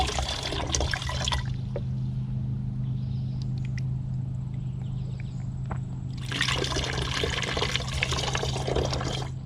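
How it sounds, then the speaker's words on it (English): Hot water from a kitchen sink is poured from a pitcher into bottles, giving a steady splashing pour at the start and another near the end, with a quieter stretch and a low hum between them. "I simply fill up this pitcher full of hot water from my kitchen sink"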